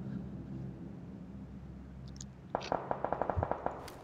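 A quick burst of gunshots in the video game PUBG (Battlegrounds) cracks out, about a dozen sharp rapid reports following a stretch of low background noise.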